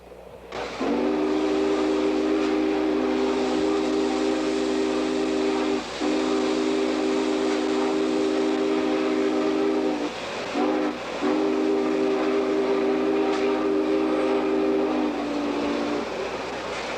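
Norfolk & Western 611 steam locomotive sounding its whistle in long, loud sustained blasts with brief breaks, a steady hiss and rumble of the moving train running underneath.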